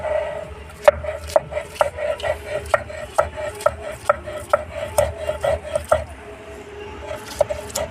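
Ginger and garlic pounded and ground into a paste at home for mustard chicken pakoras, with steady rhythmic grinding strokes, several per second, close and fairly loud with a wet, squishy rub.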